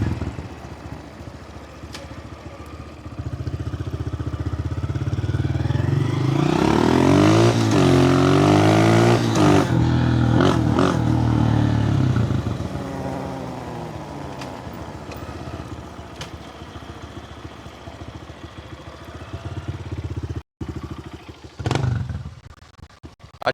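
A small 125cc motorcycle starts nearby and revs, its engine rising in a loud, wavering rise and fall before easing back to a lower idle with some clattering and faint voices.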